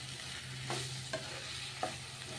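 Chilli and tomato curry frying in a pan, a steady sizzle with a few short scraping stir strokes, close and alone with no voices.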